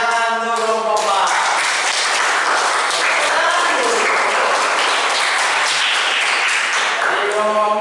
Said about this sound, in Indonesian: Boleh tepuk tangan kan?